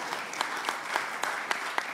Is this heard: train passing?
no